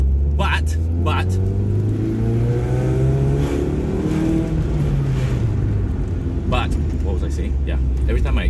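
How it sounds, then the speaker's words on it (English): A 1996 Fiat Punto Cabrio 1.6i accelerating, its engine note rising steadily in pitch through the gears, loud and close from inside the car, with a voice speaking over the engine at times. "listen to this acceleration sound"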